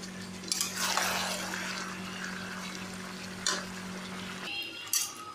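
Chicken sizzles in a pan with slit green chillies and chopped tomato, a soft steady frying crackle under a low hum, broken by a few sharp clinks of a spatula against the pan.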